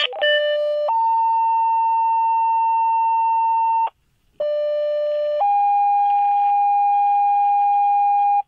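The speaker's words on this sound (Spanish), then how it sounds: "Conforme se da el alarma de incendio" Loud radio dispatch tones for a fire alarm at a slaughterhouse in Magallanes, heard as long sustained pure tones that step between pitches, a brief silent gap near the middle, then another sequence of held tones.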